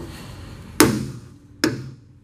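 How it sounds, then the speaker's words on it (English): Two sharp, loud metallic smacks about a second apart as a big hammer strikes the body bracing of a 1962 Mercury Comet wagon. Each hit rings briefly over a quiet workshop background. "Let me smack that with a big hammer"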